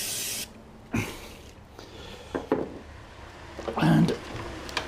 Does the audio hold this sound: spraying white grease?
yes